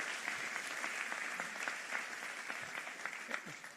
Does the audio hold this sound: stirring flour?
no